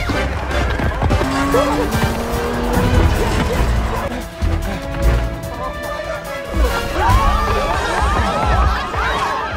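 Action-film car chase in which a getaway car speeds off and slams into a roadside barrier, with engine roar, tire squeal and a crashing impact over busy dramatic sound, loud throughout.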